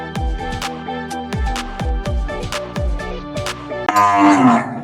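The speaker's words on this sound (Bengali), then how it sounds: "এই যে আমার গরু চিল্লাচ্ছে" A cow moos loudly and repeatedly nearby, deep drawn-out calls following one another in quick succession.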